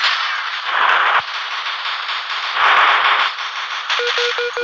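Gunfire from an online shooting video game comes in bursts of crackling, heavy shots, with a short run of quick electronic beeps near the end and no talk.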